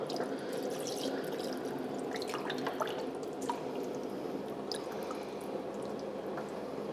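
Water pours into a pot of pozole soup on the stove, a steady low wash of liquid with scattered faint drips, quiet and close with no talk.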